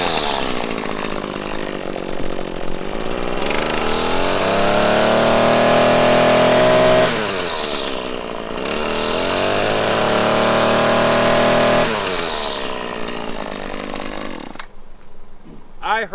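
A Husqvarna 525L string trimmer runs close by and is flipped over, its two-stroke engine revving up to a high whine twice and dropping back to idle between, then cutting off near the end.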